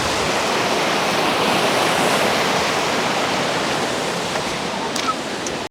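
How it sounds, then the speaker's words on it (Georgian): A cold river runs through a forest, its steady broadband rush of flowing water loud and close, continuous throughout with no voices. "დამიწერეთ კომენტარებში თქვენს თუ გიყვართ ცივი მდინარე"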